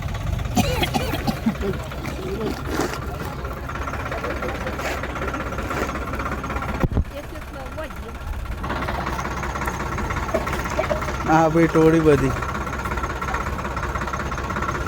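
A tractor engine idles with a steady low rumble throughout, while people talk over it nearby.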